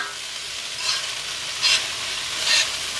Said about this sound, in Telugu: కొంచెంసేపు వేయించుతాను వేయించుకుని రుచి చూసుకుందాం